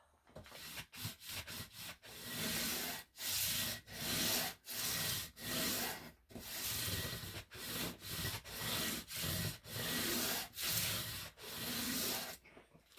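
Repeated sanding strokes on a guitar neck, a steady back-and-forth rasp of abrasive on wood with brief pauses between passes, close and fairly quiet with no voices.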